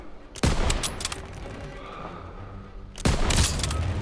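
Call of Duty WW2 gunfire comes in two loud, close bursts of rapid shots, separated by a lull of softer battle ambience.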